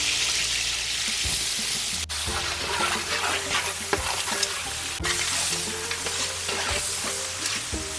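A spiced tempering (bagara) fries in a large pot for a community meal, loud continuous sizzling and crackling close up, with repeated scrapes and knocks of a ladle stirring through it.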